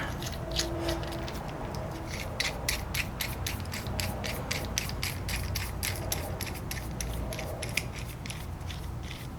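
A wrench turns a bicycle bearing press tool to push out a bearing, making a long run of rapid, evenly spaced ratchet clicks with metallic creaking, close and steady, with no talking.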